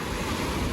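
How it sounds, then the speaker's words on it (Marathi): Ocean surf washes onto a Goa beach at night, a continuous broad roar mixed with wind buffeting the microphone, loud and close with no voices. "रात्रीचा पाण्याचा आवाज खूप छान येतो तो"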